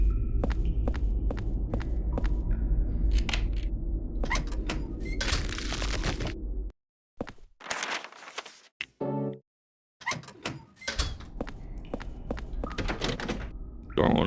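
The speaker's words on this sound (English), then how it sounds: "Door won't open, locked from the other side." In Silent Hill 4: The Room, a locked door is rattled and thumped, a run of sharp knocking clunks and handle jiggles, then abrupt silences and a few more bangs, close and fairly loud.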